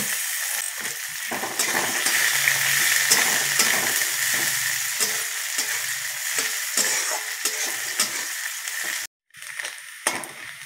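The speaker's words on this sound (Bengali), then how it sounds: "রসুন থেঁতো করা রসুনগুলোও দিয়ে দেবো। কুচনা পেঁয়াজ দিয়ে দেবো।" Crushed garlic and chopped onion fry in hot oil, giving a loud, close, steady sizzle with occasional stirring scrapes, then a sudden brief drop near the end before the frying noise resumes.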